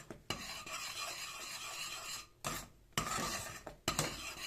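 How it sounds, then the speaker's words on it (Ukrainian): A cooking mixture being stirred in a pot, with steady scraping and rasping strokes broken by a few short pauses and sharp utensil knocks against the side, close and moderately loud with no talking. "А зараз я перемішаю, дивіться, воно ще темніше робиться"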